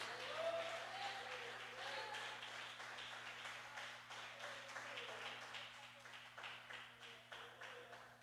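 Church congregation applauding in a sanctuary, a fairly quiet, steady patter of many hands clapping for several seconds, heard at a distance over a faint background hum.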